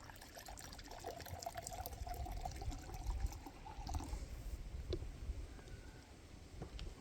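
Water is poured out of a glass cup outdoors while stealth camping in a large urban park near Birmingham, a faint, soft trickle and splash over quiet ambient background.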